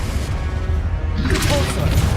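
Confringo blasting spell cast in Hogwarts Legacy on the highest difficulty: a sharp broadband crash bursts out over a dense, steady rumble of game noise and music.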